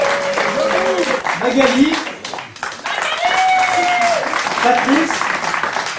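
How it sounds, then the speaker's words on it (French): An audience claps for a hurdy-gurdy workshop group at an evening concert, a steady patter of applause running under a man announcing names, with droning tones sounding through it. "Donc vous pouvez applaudir"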